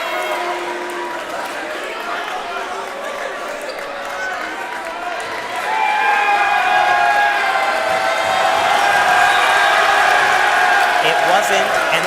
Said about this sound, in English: The boos rain down.